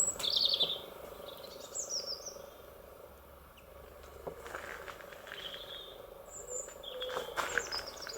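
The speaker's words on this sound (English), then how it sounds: "The birds are all happy." Faint bird chirps and tweets come and go in a quiet outdoor setting, scattered calls with soft background hiss.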